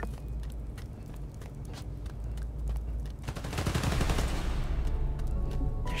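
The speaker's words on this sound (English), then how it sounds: "They're shooting transformers?" Rapid gunfire aimed at electrical transformers in the game Spider-Man: Miles Morales, dense crackling bursts of shots over a constant low rumble, growing louder and fuller toward the end.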